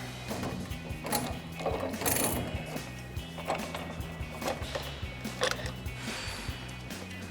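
A coil spring compressor on a Silverado 1500 front strut with a Bilstein B8 6112 leveling kit is loosened, producing repeated ratcheting clicks and metallic knocks at a close, moderate level with a steady working rhythm, no talking.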